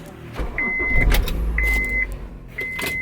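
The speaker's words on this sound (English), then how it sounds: "let's park this car up" A car is moved and parked on a hot day after being rinsed and wiped down, with a nearby engine humming low and three short, steady electronic beeps sounding at even intervals, likely parking sensor warnings.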